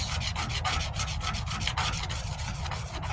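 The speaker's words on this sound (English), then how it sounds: "I'm just scraping here" Plastic Dip coating being scraped off the front bumper of a 1998 Ford Ranger 4x4, a continuous close rasping scrape with rapid repeated strokes and no talking.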